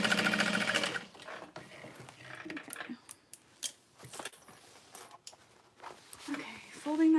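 Sewing machine top stitching a handbag runs in short, uneven bursts of whirring stitches, with quiet handling noises and pauses between runs.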